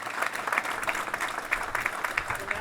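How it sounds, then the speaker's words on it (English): Crowd at the USS Cincinnati grand opening ceremony claps steadily, a continuous, moderately loud patter of many hands lasting the whole brief moment. "we want to give you a big round of applause and the Navy League"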